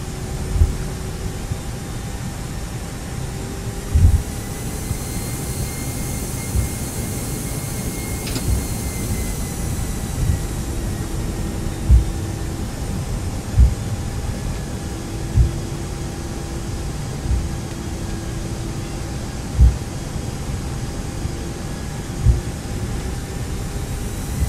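Simulated Airbus A319 cabin and engine noise from X-Plane, a steady broadband roar with a constant hum and faint periodic clicks and thumps, loud and continuous with no voices.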